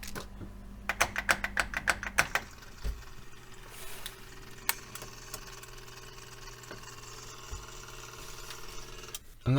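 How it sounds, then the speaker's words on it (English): Refrigerator defrost timer in defrost mode, a rapid series of sharp mechanical clicks and rattles for the first couple of seconds, then scattered single clicks over a steady motor hum. "the defrost timer is making all kinds of funky sounds, clicking and just being really noisy in general."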